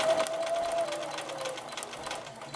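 A sewing machine stitches steadily along the line in foundation paper piecing, a continuous close mechanical whirr that runs alone for the whole stretch.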